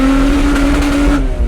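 Supercharged 400 bhp Honda CRX with a K20 engine accelerating hard in second gear, a loud, close, steady engine note with a rising whine that drops off abruptly near the end.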